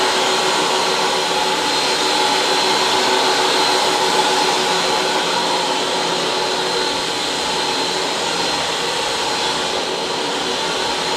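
A Bonzer high speed carpet cleaning tool running on carpet, giving a steady loud motor whir and airy hiss that holds without a break throughout, with no voices.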